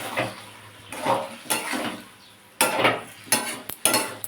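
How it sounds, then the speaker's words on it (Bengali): Vegetables for shukto mixed with mustard paste and sugar in a pan, a spoon scraping and knocking against the metal in repeated strokes over a faint sizzle. "এবার ভালোভাবে মিশিয়ে নেবো সর্ষে বাটা দিয়ে"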